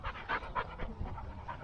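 A dog at a vanlife meetup pants rapidly, with quick rhythmic breathy puffs close to the microphone, fairly quiet, and no one speaks.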